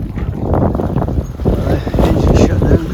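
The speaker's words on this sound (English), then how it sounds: "at last, after 2 hours motoring, we've got enough wind to sail." Strong wind roars across a microphone on a sailboat at sea, loud and steady throughout with gusty buffeting, as a voice speaks under the wind.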